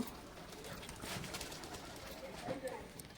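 Madrasi pigeons, a breeding pair of male and female, coo faintly in the background while someone talks over them, the soft calls mostly buried under his voice and room noise.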